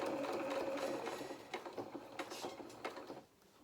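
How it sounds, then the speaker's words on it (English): A sewing machine stitches fabric for a doll's hedgehog head. Its close, even mechanical whirr speeds up and then breaks into short stitching bursts before stopping. "Press the foot down again. A few more stitches."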